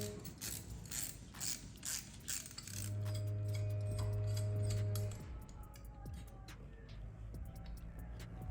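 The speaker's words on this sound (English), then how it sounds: "Now we're gonna take off this bolt right there." A hand ratchet loosens a 15 mm bracket bolt on a Camaro, giving close, rapid clicking in quick bursts, with a steady mechanical hum through the middle stretch.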